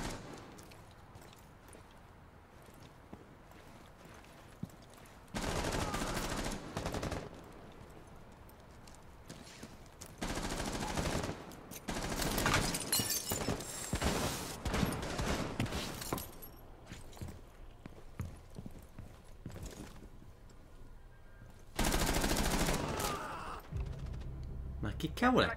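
Gunfire in the Rainbow Six Siege video game: several loud, dense bursts of rapid shots separated by quieter stretches, with the last burst near the end.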